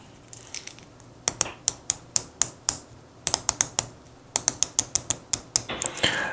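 Rotating bezel on a slim 37mm Cronos L6033 diver watch turned in bursts of crisp, evenly spaced ratchet clicks, close and dry, with short pauses between runs and no voices.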